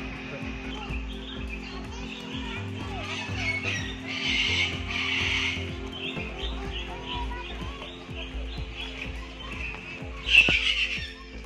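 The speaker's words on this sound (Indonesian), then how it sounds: "Ini adalah burung kalkun ini." At a zoo in Jambi, a turkey gives a few squawking calls amid background chatter and ambient noise, with a louder burst near the end.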